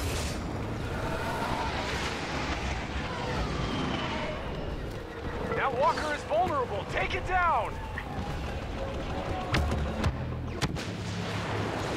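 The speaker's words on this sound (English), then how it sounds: "Don't ask why there's a blaster cannon there, but there is one." A blaster cannon fires in the Star Wars Battlefront video game, sending heavy booming shots through a dense battle din while a voice talks over the action.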